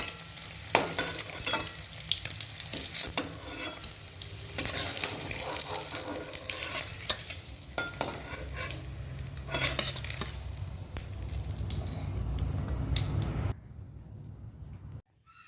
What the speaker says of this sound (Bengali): ওই তেলে গোটা জিরা ফোড়ন দিয়ে দিচ্ছি তেজপাতা দিয়ে দিচ্ছি পেঁয়াজ কুচি দিয়ে দিচ্ছি